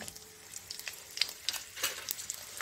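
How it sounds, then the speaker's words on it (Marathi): Garlic cloves, ginger and chili sauté in a hot pan for a Malvani-style dish. A soft, crackling sizzle runs throughout with faint stirring, and no one speaks. "थोडासा असा परतल्यासारखा करायचा"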